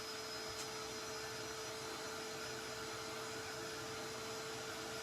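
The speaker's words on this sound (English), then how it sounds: "I'm just going to go with my heat gun" A heat gun blowing hot air to dry glue on a paper file folder folio, a steady even whine with a constant hum and no break, close and fairly quiet, without speech.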